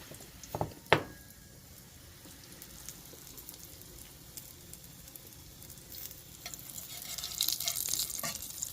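Breakfast sizzles and bubbles steadily in a hot pan during an outdoor cowboy-style Christmas morning cook, with a couple of sharp clatters near the start and the frying growing louder toward the end.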